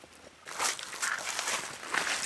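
Footsteps splash and scuff across a slippery creek in dark woods, a steady run of close, wet crunching steps with no talking.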